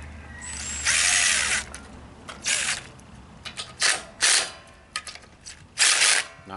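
Power tool snugging valve cover bolts on a Briggs & Stratton OHV riding mower engine, heard as several short, close whirring bursts separated by quiet gaps.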